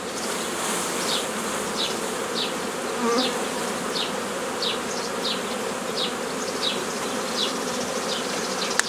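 Honeybee swarm buzzing during a hive transfer, a dense continuous hum close by with individual bees zipping past repeatedly, no voices over it.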